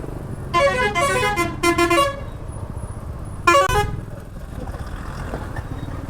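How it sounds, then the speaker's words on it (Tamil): Road traffic on Haralur Road in Bangalore, with two loud, close vehicle horn blasts, one long and one shorter, over a steady rumble of engines. "இது அரலூர் ரோட் டிராஃபிக்கு"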